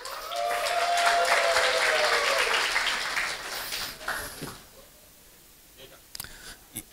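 Audience applause at a guest lecture swells to a full, sustained clapping for about three seconds, then thins out and fades into scattered claps and room noise while voices murmur quietly underneath.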